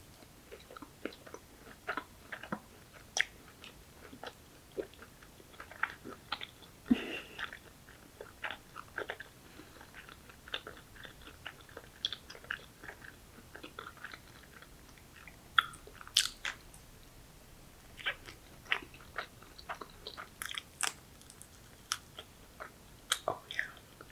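Soft, close chewing of sushi and other Japanese food, with scattered small bites, squishes and light crunches spread evenly through a quiet stretch, and no talking.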